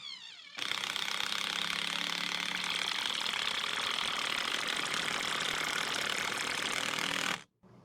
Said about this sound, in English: Let's see what the Robestrue can do with a 10-inch timber screw in this test.